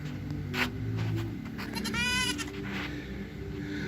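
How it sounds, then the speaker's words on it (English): Goats wearing little jackets bleat at an outdoor Christmas lights display, one clear wavering bleat rising near the middle over a steady background hum and crowd murmur. "I got goats that they have here."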